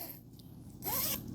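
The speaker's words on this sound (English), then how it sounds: "And also they have a zipper on the bottom." A zipper on the bottom of a baby swaddle is pulled in one steady, close, fairly loud run near the end, following a quieter stretch of light handling.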